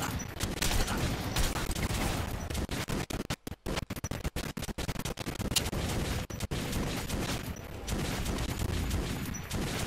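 Gunfire in the video game Metro: Last Light Redux, with dense rapid bursts of shots and scrapes filling the mix almost continuously. The volume stays loud, broken by brief gaps near the middle.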